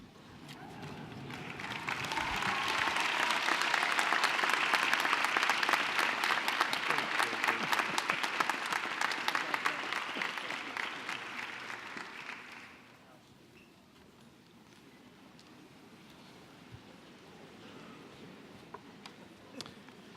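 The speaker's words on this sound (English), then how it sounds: "white coat recipients, stand, turn around, and applaud your green shirts" White coat recipients at a medical school white coat ceremony stand and applaud, a loud, dense wave of clapping that swells for about ten seconds before dropping to a lighter patter of scattered claps.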